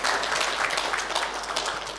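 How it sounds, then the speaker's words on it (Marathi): Audience applause at a Dasnavami festival devotional singing concert, a dense steady wash of many hands clapping that fills the whole moment without speech. "त्यासाठी एकदा जोरदार टाळ्या आपण वाजूया"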